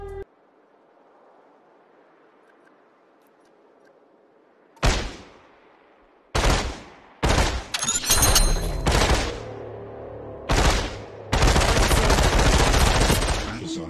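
Gunfire in the VR battle royale game Population: ONE: after a quiet stretch of low background noise, loud bursts of automatic fire and single sharp shots come in irregular clusters, growing denser into sustained firing near the end.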